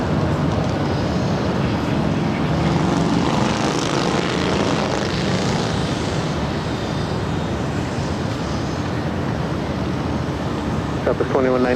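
A loud, continuous jet engine roar fills the air as an Airbus airliner powers down runway 24 left at LAX, holding steady and close throughout, with radio voices faintly underneath.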